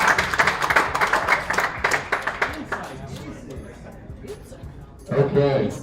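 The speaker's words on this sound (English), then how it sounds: "let's give him a round of applause" Audience members in a goal-setting workshop give a short, sparse round of applause that fades into quiet room noise, followed by a person speaking near the end.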